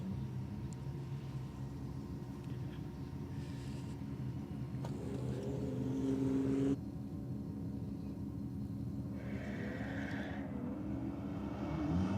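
A Skoda Octavia vRS and a BMW drag race at a strip. Steady engine roar plays for about twelve seconds, with rising revs and shifting pitch as the cars accelerate, heard from a moderate distance with no talking.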